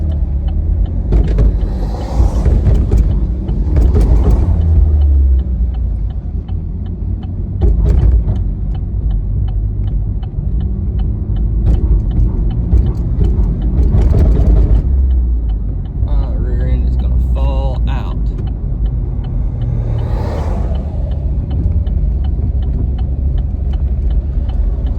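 Lifted sixth-generation Camaro on 33-inch Rough Country tires accelerating on a rough road, engine rumbling steadily throughout, with talk over it.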